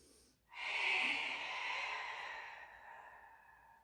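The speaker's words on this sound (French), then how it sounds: "Je souffle fort pour que vous rappeliez que sur l'effort, je connecte mon ventre" A strong, long exhalation during a Pilates exercise, a close, breathy rush of air that starts abruptly and fades slowly over about three seconds, heard alone.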